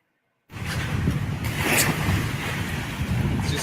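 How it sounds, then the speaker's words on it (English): Water splashing and sloshing steadily after a sudden start, close and fairly loud, with a wind-like rush running throughout. "just splashing noises, so I don't give a shit."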